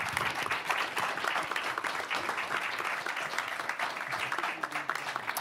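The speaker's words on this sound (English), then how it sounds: "Applause, please." An audience applauds after a leadership panel discussion, a sustained, dense round of clapping from many hands at an even level throughout, with no talk over it.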